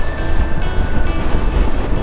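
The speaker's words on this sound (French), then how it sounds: "Là on va prendre une rafale de vent." A gust of wind batters the microphone during a mountain bike ride on Menorca, a loud, churning low rumble with steady buffeting and no voices.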